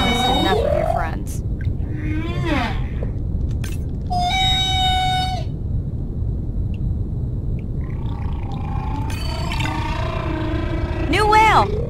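Orcas in the underwater game Beyond Blue trade whistles, squeals and pulsed social calls in repeated bursts over a steady rumbling ocean bed, loud and close.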